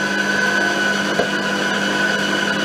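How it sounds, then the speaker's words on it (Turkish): A food processor runs steadily, mixing milk and vegetable oil for a cake batter, giving a continuous close motor whir with a single brief knock partway through and no talking. "Robotla aç kapa, aç kapa biraz zor oluyor ama mikserim maalesef öteki evde"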